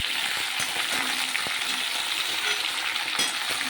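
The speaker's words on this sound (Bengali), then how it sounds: "এতে আলুটা সেদ্ধ হয়ে যাবে এবং ভাজাও হয়ে যাবে।" Potato slices frying in a covered pan give a continuous, even sizzle and hiss at close range, with a few faint taps, and no voices.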